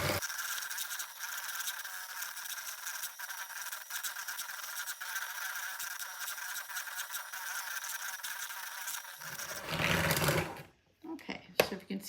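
Electric mixer beating egg, egg yolk and vanilla for cookie dough, a steady close whirring drone for about ten seconds that then cuts off, followed by a few clattering knocks.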